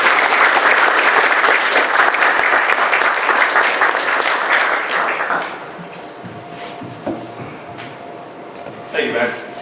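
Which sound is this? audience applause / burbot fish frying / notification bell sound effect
audience applause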